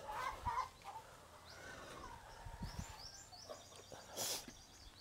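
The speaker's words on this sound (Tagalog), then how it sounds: "Ngayon, lalagyan na natin ng manok." Faint Rhode Island Red chickens cluck and call in the background, with a few soft thumps and rustles nearby as chickens are handled; no talking.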